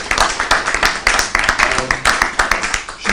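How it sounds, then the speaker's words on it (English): A live audience gives a speaker a round of applause at an evening event, the dense clapping steady and close throughout. "So please do give her another round of applause."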